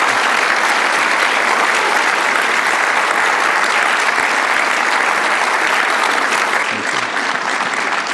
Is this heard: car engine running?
no